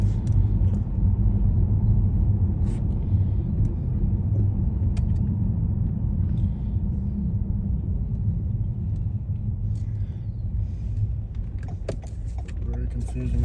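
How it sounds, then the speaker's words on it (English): A dump truck rumbles nearby in an Albany, Georgia neighborhood, a steady low drone lasting throughout, with voices in the car talking over it and a few small clicks near the end. "What's that noise? A dump truck."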